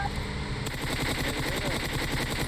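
Machine gun spray fire in PUBG Mobile rattles in dense rapid bursts, loud and continuous, with steady rumbling background noise throughout.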